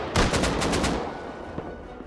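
A short, rapid burst of M249 machine gun fire in the game Rust during a raid, about eight shots in quick succession, loud and close, then a fading echo and a faint distant shot.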